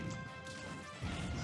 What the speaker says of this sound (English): Pincurchin smashing Sonic a few times there.